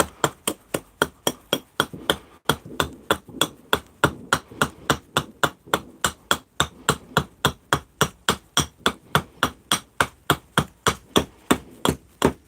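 An axe chops willow wood for carving a large bowl. The blows are close, steady and rapid, about three strikes per second for the whole stretch, with no talking.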